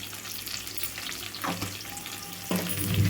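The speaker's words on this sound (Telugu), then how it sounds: "ఉల్లిపాయలు ముక్కలు వేసిన తర్వాత ఒక్క నిమిషం పాటు ఇట్లా వేపుకున్న తర్వాత" Onion pieces frying in a pan with salt and turmeric give a steady close sizzle, with brief stirring scrapes and a louder surge of crackling near the end.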